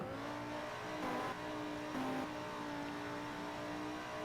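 A racing truck engine in a motorsport video game holds a steady, sustained drone with a couple of brief swells in pitch, fairly loud and continuous with no talking.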